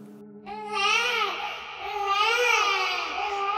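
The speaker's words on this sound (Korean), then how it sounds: "어디선가 들리는 작은 아기 울음소리." An infant crying as a sound effect in a Korean horror radio drama, a wavering, continuous wail of rising and falling cries, fairly close and steady, with no speech over it.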